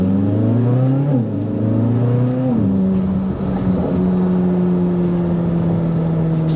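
2024 Chevrolet Corvette Z06 convertible accelerating, its engine note climbing through a couple of quick shifts before settling into a steady, strong drone, heard close and loud from on board with no talk.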